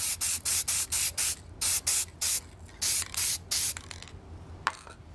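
Spray can paint applied to the back of a 3D printed sun visor delete plate for a Mazda Miata, heard as a series of about ten short, even hissing bursts, each lasting a moment, with brief pauses between them.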